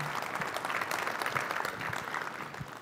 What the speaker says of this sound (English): I'm going to ask you to sustain that applause